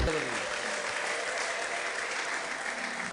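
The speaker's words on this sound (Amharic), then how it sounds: "አጨብጭቡ ለጌታ ክብር" A church congregation claps and cheers during a prophetic worship service, with sustained dense applause filling the space and voices calling out throughout.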